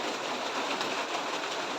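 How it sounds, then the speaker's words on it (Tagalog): Heavy rain pours down in a steady, dense hiss, loud and unbroken, with no voices. "Malakas na yung ulan"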